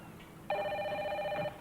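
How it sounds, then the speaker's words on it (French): A telephone rings indoors in a French television drama, a single clear electronic ring of about one second against a quiet room. "Milou, téléphone"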